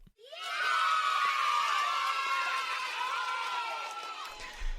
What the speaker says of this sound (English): Let's give Dannii a big round of applause for braving the Squiz Kids hot seat today